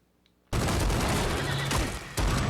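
Gunfire from a Stranger Things episode bursts in suddenly after near silence, a dense, loud, sustained volley of shots with a brief dip before another burst, alone without talk.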